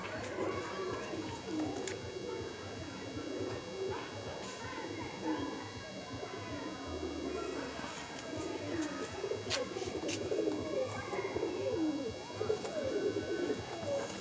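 Pigeons cooing in a loft, soft repeated low coos overlapping continuously from several birds at close range, with a faint background hum and occasional light rustles.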